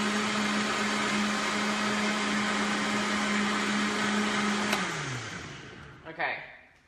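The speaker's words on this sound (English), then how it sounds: "So I've blended about a minute, and then it gets it nice and frothy" A NutriBullet blender whirs loudly and steadily while frothing bulletproof coffee, then winds down with a falling pitch near the end, followed by a few handling clunks.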